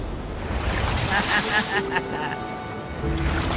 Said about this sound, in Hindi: ओके, ये आई बड़ी लहर।